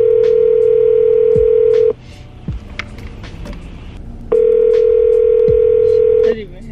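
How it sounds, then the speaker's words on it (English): An outgoing phone call rings back unanswered: two long steady ring tones separated by a quieter gap with faint background noise, loud and close, as if heard through the handset. "She didn't even answer the phone."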